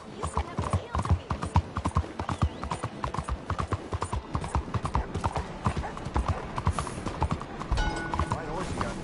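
Rhythmic clip-clop of a white horse's hooves in Red Dead Redemption trots steadily throughout, fairly close, with a brief whinny near the end.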